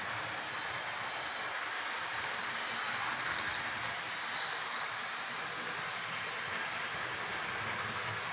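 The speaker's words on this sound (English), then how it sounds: "as you can see, the train appears to be running pretty well" A model train runs steadily along its track with a continuous even whirring rumble that holds the same level throughout, with no talking.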